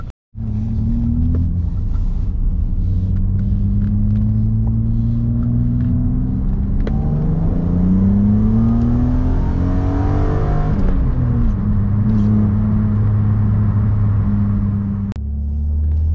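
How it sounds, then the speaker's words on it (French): BMW Z3 2.8i coupé with its 2.8-litre six-cylinder engine, running steadily and then revving up and down in several smooth rising and falling sweeps; close and loud, with no talk. "c'est le bruit du 6 cylindres qui vous prend tout de suite"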